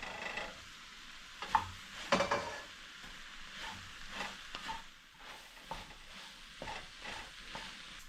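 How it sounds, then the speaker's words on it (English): A spoon stirs beef stew with tomato paste in a pot, giving soft scraping and light sizzling with a few louder clinks against the pot. The sound is close and steady, with no talking. "Yeah, tomato paste is in. Alright, mix all together."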